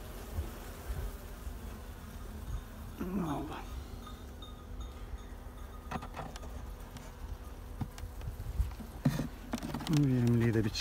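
A steady swarm of honeybees buzzing as they spill out during a hive transfer, with scattered knocks and handling sounds and a voice speaking briefly near the end.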